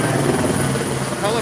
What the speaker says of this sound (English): Helicopter with